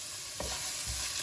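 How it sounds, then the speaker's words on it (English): Chopped onions dropped into hot oil in a soup pot, a steady broadband sizzle with a brief stirring scrape partway through, close and continuous, no talking. "Once your oil is nice and hot, you can add in the onions."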